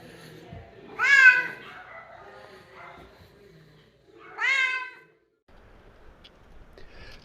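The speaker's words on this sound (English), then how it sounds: "So Mocha is a cat." A pet cat named Mocha meows twice at a veterinary clinic, two clear, drawn-out calls a few seconds apart, close by, with quiet room noise between them.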